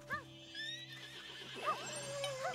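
A horse neighs in the Princess Peach: Showtime! video game. A sharp whinny opens the clip and another follows midway, with hoof sounds and game music underneath and a voice faintly present.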